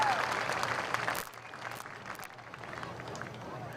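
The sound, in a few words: applause for riders and their classic horses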